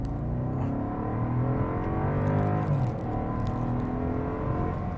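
A Bentley Flying Spur V8 accelerates from inside the cabin, its engine rising in a smooth, steady rumbling whir that builds and then eases, heard close with no talking.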